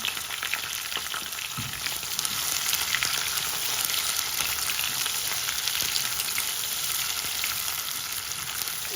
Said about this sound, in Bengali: এখন আমি দুইটা মিডিয়াম পেঁয়াজ